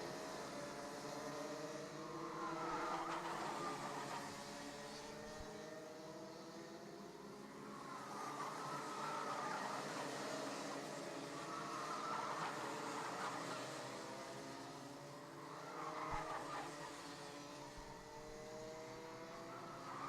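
Rotax racing karts in a junior final race on a back straightaway, a faint, distant buzz of high-revving small engines that swells and fades in repeated passes, with no voices.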